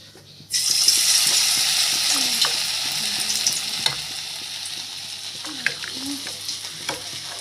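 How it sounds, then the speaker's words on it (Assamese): Chicken pieces drop into hot oil on a low flame and burst into a loud, close sizzle that slowly settles into steady frying, with a few clinks and stirring sounds and no talking. "মই ল' ফ্লেমত দি চিকেনখিনি ইয়াতে দি দিলোঁ।"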